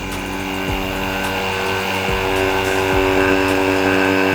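A testing machine running a Proton Iriz CVT pulley gives a steady, loud mechanical drone with a constant hum and faint periodic ticks. The sound is continuous and close, with no talk.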